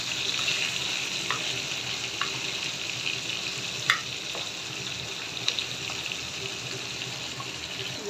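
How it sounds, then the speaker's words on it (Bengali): Pabda fish fry in hot oil in a pan, giving a continuous bright sizzle with occasional sharp pops and crackles, close and moderately loud, with no voices. "মাছগুলো আমার লাল করে ভাজা হয়ে গেছে"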